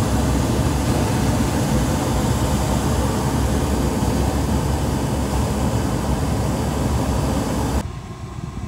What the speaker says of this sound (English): I'm gonna kick the gas on. Well, we have ignition.